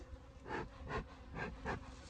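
Honey bees buzz at a hive during the first inspection of the year, with smoke in use; the loud droning swells in four pulses over a steady hum.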